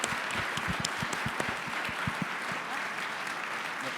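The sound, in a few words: applause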